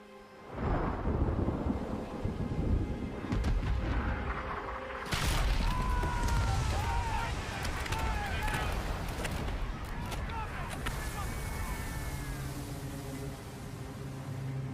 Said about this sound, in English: Sounds like cannons were fired and hit the ship.